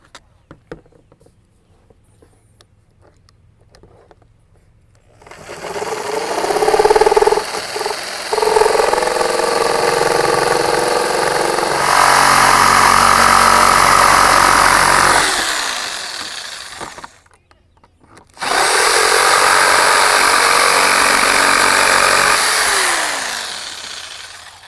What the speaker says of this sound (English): When you use a jigsaw, make sure that you let the blade do the work and don't force it.